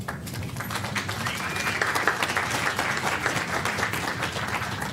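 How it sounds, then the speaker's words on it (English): Audience applause at a CDC health equity forum, a full and even round of clapping from a seated crowd that carries on steadily throughout, with faint murmuring mixed in beneath it. "I would like to recognize them with a round of applause after I read off their names."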